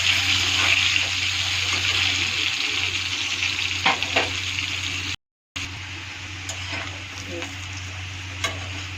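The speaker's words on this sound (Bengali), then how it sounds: "আলুটা ছেড়ে দেবো, আলুটা একটু ভালো করে ভেজে নেব" Potatoes fry in a pan with a continuous close sizzle and occasional stirring scrapes. A low hum runs underneath, and the sound cuts out for a brief moment near the middle.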